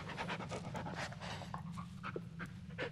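A dog named Bullet pants heavily and continuously in the Blair Witch video game, close and steady, over a constant low rumble of game ambience.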